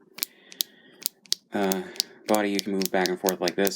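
Several sharp plastic clicks from the ratcheting body joint of a Power Rangers Lightning Collection SPD Yellow Ranger action figure being moved back and forth, close and crisp, followed by a person talking.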